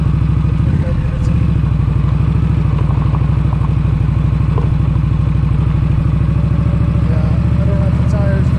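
Motorcycle engine rumbling steadily on a rough unpaved road near Takhlakh Lake, Washington, loud and close, with jolts and clattering bumps scattered throughout.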